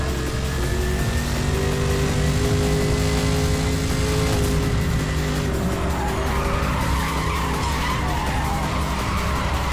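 Need for Speed Hot Pursuit: a game car drifts with sustained tire squeal and skidding over a loud, continuous engine roar, with no pause for nearly ten seconds.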